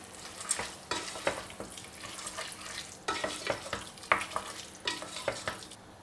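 A minced meat zucchini dolma filling with washed rice and bulgur is stirred in a pan, giving a low sizzle under repeated scraping, clattering strokes of a spoon in loose bursts.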